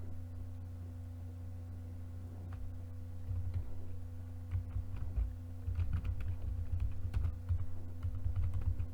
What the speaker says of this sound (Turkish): ben yazıyordum klavyeye bakıyordum görmedim.